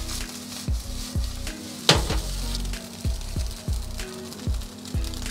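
Pineapple seafood fried rice sizzles in a hot pan while being stirred, with soft continuous frying hiss punctuated by rhythmic scraping knocks of the utensil against the pan and one sharper clank.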